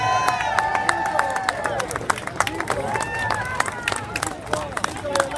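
Street crowd at a Greek Independence Day parade in Boston clapping and cheering, with scattered sharp claps, whoops and babble over a continuous outdoor hubbub, fairly near and lively.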